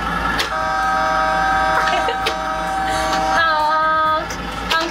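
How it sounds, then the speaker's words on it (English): A front loader's horn sounds in long steady tones with a brief break, loud and close, layered over engine rumble in a children's dinosaur adventure setting. "Let's honk the horn."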